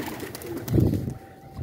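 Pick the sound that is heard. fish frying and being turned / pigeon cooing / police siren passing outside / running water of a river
pigeon cooing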